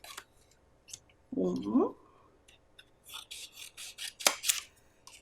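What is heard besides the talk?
scissors cutting paper along marked lines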